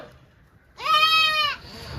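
A single goat on a Kerala goat farm calls for milk with one loud, drawn-out bleat that starts after a quiet moment, lasts under a second, then stops.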